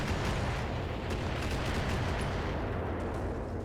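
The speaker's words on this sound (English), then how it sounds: "The LRMs are gonna be gone. Firing on target." Salvo of long-range missiles fired by a mech in the BattleTech video game: a dense, continuous roar of overlapping launches and blasts, loud and sustained without pause.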